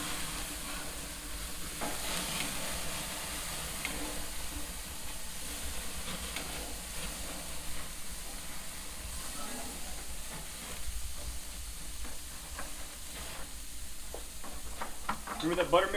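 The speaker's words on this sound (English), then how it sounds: "So frozen burgers inherently dry out a bit whenever you're cooking them." Frozen beef burgers sizzle in a pan, a soft, steady frying hiss with scraping and stirring noises while someone talks over it.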